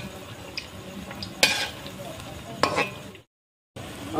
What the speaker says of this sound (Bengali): বড়াটা এইভাবে উল্টো পাল্টে ভেজে নিতে হয়, তাহলে ভালো ভাজা হয়